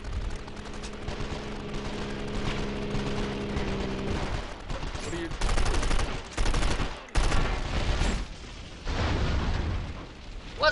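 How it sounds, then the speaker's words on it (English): Bursts of gunfire and loud explosive blasts in the video game 24: The Game over a steady rumbling background, growing denser and louder toward the end. "Ready for some explosions?"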